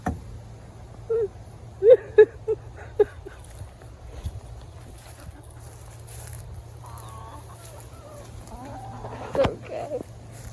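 A chicken held by a snake clucks in a burst of short, sharp calls near the start, then goes quiet under a low steady hum, with a few softer sounds and a person speaking later.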